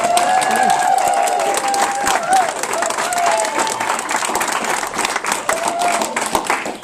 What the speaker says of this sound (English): give yourself a big round of applause for being so adorable